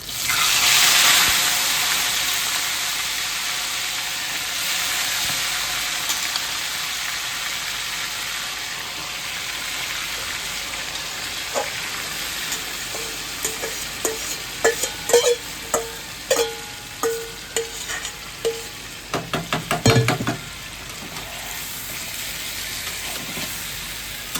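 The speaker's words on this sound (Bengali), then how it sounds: "এবার আমি চিকেনগুলো দিয়ে দেবো।" Chicken pieces go into a hot pan, setting off a loud hissing sizzle that fades to a steady frying crackle, later joined by clinks and taps of a utensil stirring.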